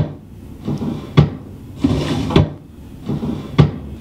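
Wooden shelf knocked or shifted by hand, giving three distinct hollow thuds about a second apart, each preceded by a softer scrape or creak, close and fairly loud with no talking.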